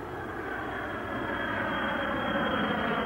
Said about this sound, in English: Listen to the difference as first the plane with the untreated engines flies over.